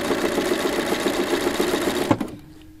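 A Bernina sewing machine with an edge stitch foot runs at slow speed, a steady, close mechanical whirring stitch that hums along evenly for about two seconds before stopping with a soft clunk.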